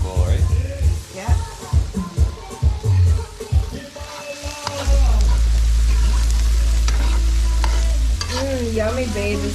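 Garlic sizzles and fries in a pan for a spinach bhaji, a steady hiss that fills the second half after stirring and clatter, with a person talking over the start.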